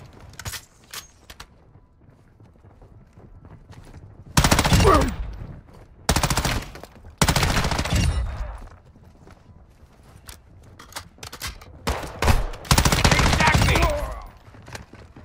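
Machine gun fire in the Call of Duty DMZ shooter game, several loud, close bursts of rapid shots separated by quieter gaps with sparse background noise.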